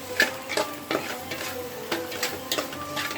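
Ingredients for a fish curry are stirred and sautéed in a pan, with a soft background sizzle broken by intermittent scraping and clinking strokes of the spoon, close and fairly quiet.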